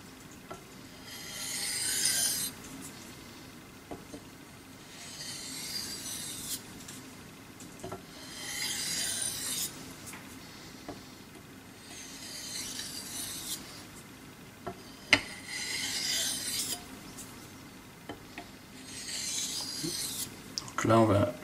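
Steel blade drawn over a Belgian coticule whetstone, repeated rasping strokes in bursts every few seconds, close and fairly quiet, with brief pauses between passes.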